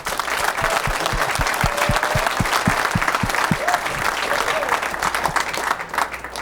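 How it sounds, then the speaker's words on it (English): An audience at the 2003 US Open 9-Ball Championship final applauds steadily, a dense, sustained wash of clapping from the crowd with a few voices mixed in. "You deserve a nice round of applause one more time."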